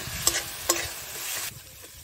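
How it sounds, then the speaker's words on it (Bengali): Fish sizzles in a pan as salt, turmeric and chili powder are stirred in, with two sharp scraping strokes over a close, steady frying hiss that cuts off abruptly partway through. "এবার দিচ্ছি পরিমাণ মতো লবণ, আর দিচ্ছি হলুদের গুঁড়ো, আর দিচ্ছি লঙ্কার গুঁড়ো, দিয়ে ভালো করে কষিয়ে নেব।"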